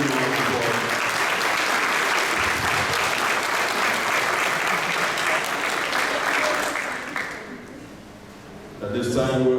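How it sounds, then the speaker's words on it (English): An audience gives a sustained round of loud, dense applause for the parents and guardians of a school soccer team. The clapping fades away near the end before a brief new burst. "let's give them a round of applause"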